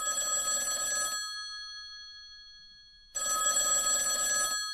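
An old-style telephone bell rings loudly in two long bursts separated by a silent pause, with no talking over it, in a Konkani stage drama scene.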